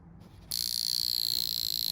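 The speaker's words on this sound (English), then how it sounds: "it's the exact same cricket alarm complication" A mechanical cricket alarm watch goes off after a brief quiet start, its loud, steady high-pitched buzz running continuously and close by.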